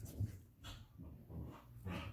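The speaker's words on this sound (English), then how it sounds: "My dogs are back there, you can hear them." Dogs somewhere in the background of a quiet room, giving faint scattered whimpers, pants and muffled little vocal noises, distant and low in level.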